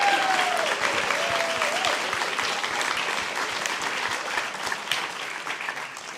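Sustained audience applause at a guide dog graduation ceremony, a dense wash of many hands clapping steadily, fairly loud and even, slowly tapering toward the end.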